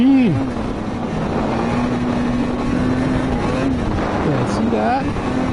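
A Ski-Doo snowmobile engine idles and burbles nearby in a steady hum with brief pitch dips and rises, while people talk over it.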